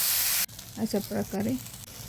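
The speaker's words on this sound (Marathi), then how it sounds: "हा कांदा पूर्णपणे फ्राय करायचा बघा, खूप घेतलेला आहे." Onion fries in a pan for kanda poha with a loud, dense sizzling hiss that cuts off abruptly, followed by a person talking over a faint background.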